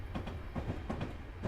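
Train from Train Simulator 2014 rolling on rails around a bend, giving a steady low rumble with a soft repeating clickety-clack of wheels over rail joints, heard alone at moderate loudness.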